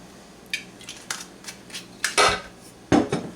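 A utensil scrapes and clinks against a bowl while stirring seasonings and olive oil into butter for roasted pumpkin seeds. Several short, close knocks and scrapes come in an uneven rhythm, with no voices.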